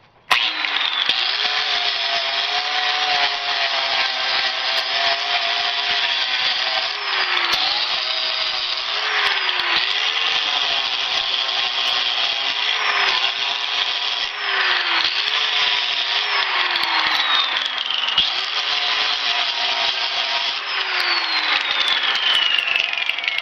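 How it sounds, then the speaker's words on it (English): Power drill boring a drain hole into the bottom of a dump trailer, a loud continuous high whine with pitch dips and surges as the bit bites into metal, close and sustained without talk. "I might drill a hole in the bottom because now it's got water in it to let the water out"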